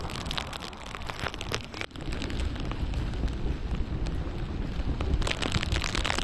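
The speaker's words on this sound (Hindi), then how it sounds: "अभी बारिश की फ्रीक्वेंसी थोड़ी ज़्यादा तेज़ हो गई है" Heavy rain pours steadily during a jungle trek among green meadows and cloud-covered hills, a dense continuous hiss with gusty rumble close to the microphone and no voices.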